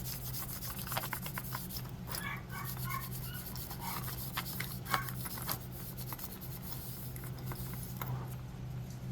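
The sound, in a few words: rubbing natural boot oil onto a leather collar with a napkin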